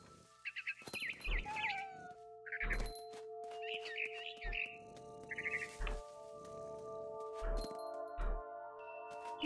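Repeated cat meows from a cat in the video game What Remains of Edith Finch, several short, fairly close calls spread out over sustained musical tones and occasional soft thumps.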